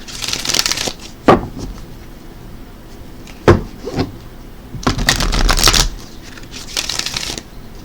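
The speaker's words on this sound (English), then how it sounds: "let's go ahead and pull an Archangel Animal Oracle card for you for Pisces" Archangel Animal Oracle cards are shuffled close up in several loud riffling bursts, with sharp taps and knocks of the deck between them and no talking.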